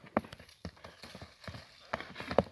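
Hooves of a small Karabair horse, about 1.60 m tall, clip-clop at a walk in a quick, uneven rhythm, fairly faint and somewhat distant.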